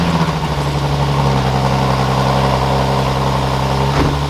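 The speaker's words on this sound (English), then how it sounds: "Oh yeah, let's get this cold start." Nissan 370Z fitted with a wrapped Tomei exhaust and Y-pipe idling after a cold start, a loud, close, steady low drone with a brief dip in the idle near the end and no talk.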